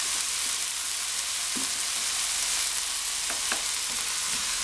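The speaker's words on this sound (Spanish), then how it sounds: "Lo dejamos que sofríe" Seasoned chicken breast sautéing in oil in a pan, a steady close sizzle with a few faint stirring clicks and no talking.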